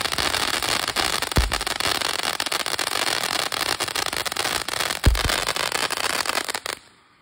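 Phantom Starspangled Spectacular consumer fireworks firing outdoors, a dense continuous crackle of bursts with two louder booming reports, fairly close, ending abruptly.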